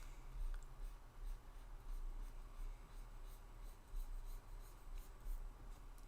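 Pencil dragging across paper in continuous line work, a soft steady scratching with small rhythmic strokes, close and quiet with no talking.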